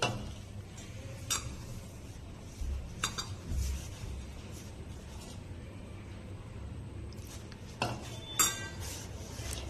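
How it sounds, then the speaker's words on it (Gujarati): A spoon scrapes and clinks against a bowl while flour, a pinch of turmeric and a spoonful of oil are mixed into a medium dough for Gujarati dal dhokli, quiet and intermittent, with soft taps and a few louder clinks near the end. "હવે આપણે આ બધી વસ્તુને સારી રીતે મિક્સ કરી તેનો એક મીડિયમ લોટ તૈયાર કરી લઈશું"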